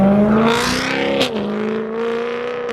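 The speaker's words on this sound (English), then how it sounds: "Audi R8 V10 pulling in" An Audi R8 V10 supercar pulls in close by, its engine droning with a steady tonal whine that dips briefly as the revs shift, then settles into a smooth hum.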